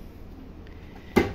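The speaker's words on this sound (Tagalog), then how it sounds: "Ganito yung tunog ng adobe" A digging tool strikes hard adobe soil in a pit under 1 meter deep, giving one sharp, close crack near the end after quiet background.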